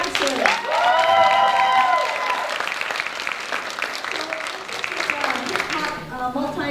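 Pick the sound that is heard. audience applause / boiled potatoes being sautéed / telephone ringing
audience applause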